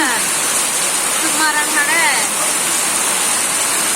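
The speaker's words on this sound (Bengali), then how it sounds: "দেখতে পাচ্ছেন প্রচুর বৃষ্টি।" Heavy rain pours down in a steady, dense roar that fills the scene, with a voice briefly heard underneath.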